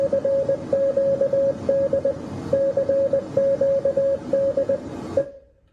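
A Titanic distress message in Morse code beeps out as a single steady tone in quick dots and dashes, grouped by short pauses, close and clear over a faint hiss, ending abruptly.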